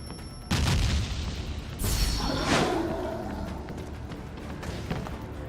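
Bombs go off in a video game: a sharp booming blast, then a whooshing sweep and a second rumbling explosion that trails off into a noisy tail, heard alone and fairly loud.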